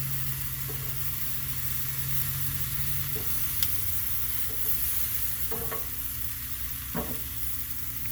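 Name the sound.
searing the fat side of meat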